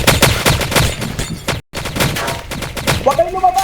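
Rapid gunfire in the Roblox Dominion City roleplay game, dense bursts of shots crackling continuously with a brief cutout midway, loud and close, with game sounds and faint voices mixed in.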